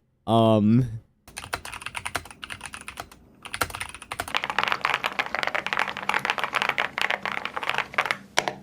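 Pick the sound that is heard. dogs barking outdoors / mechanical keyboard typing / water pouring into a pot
mechanical keyboard typing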